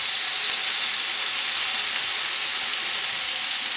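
Strips of steak sizzle loudly in a hot pan, a dense, continuous frying hiss with faint pops and crackles, close up and steady throughout.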